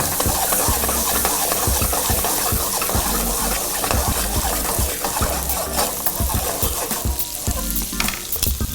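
Apple cooking in butter in a pan, a loud continuous sizzle and crackle close by, with bursts of stirring and utensil clatter over the steady frying.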